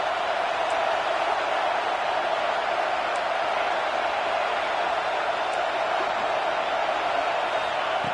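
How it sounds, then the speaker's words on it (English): A steady, dense roar from a packed stadium crowd in the College Football 26 video game, a constant wash of noise with no breaks and no clear voices standing out. "listen to this crowd noise. This stadium is vibrating."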